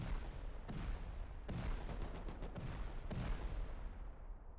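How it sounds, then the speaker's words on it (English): In a Rust 4v4 tournament raid, C4 blasts tear doors off in quick succession, sharp explosive cracks, some in a rapid burst, layered over continuous deep rumbling. "Blowing all the doors off."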